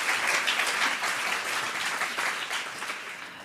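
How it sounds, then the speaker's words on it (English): A full room of listeners claps for a discussion panel on gender violence and Title IX, the applause dense and sustained throughout and tapering slightly toward the close. "Let's please give another round of applause for our entire panel."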